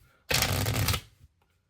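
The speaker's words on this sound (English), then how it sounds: "shuffling it onto the table, then cascading it." A single riffle shuffle of playing cards, a dense rapid flutter lasting under a second, close and fairly loud, with no talking.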